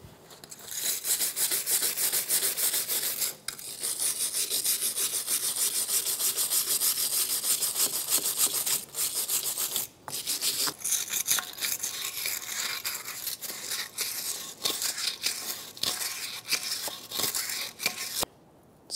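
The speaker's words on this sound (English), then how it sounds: "Using a wire brush, clean inside of this knuckle surface and also on the face." A wire brush scrubs hard and continuously against the wheel knuckle surface of a 2012-2016 Subaru Impreza during a rear wheel bearing and hub replacement, with loud close rasping strokes and a few brief pauses.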